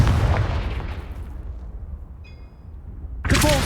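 Confringo blasting spell in Hogwarts Legacy: a loud, close explosive burst that opens the moment and decays into a fading rumble, followed by a second sharp blast at the end.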